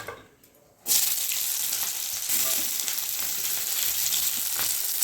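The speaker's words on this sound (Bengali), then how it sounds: "এখানে পেঁয়াজ আর কাঁচা লঙ্কা কেটে রেখে দিয়েছিলাম, দিয়ে দেবো তেলের মধ্যে" Sliced onion and green chilli dropped into hot mustard oil in a wok burst into a loud, sudden sizzle after a quiet moment, then keep hissing steadily up close.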